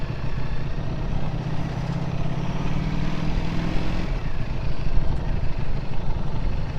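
A 2025 Ducati V4 Panigale being ridden on a demo ride at Tampa Bay Ducati gives a steady engine drone beneath a constant rush of wind noise, continuous throughout with no talking.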